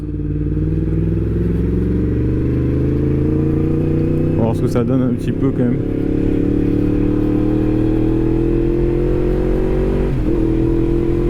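A Yamaha MT-10 Stage 1 motorcycle engine (183 hp) drones and climbs in pitch as it accelerates, loud and close, with someone speaking briefly over the engine midway.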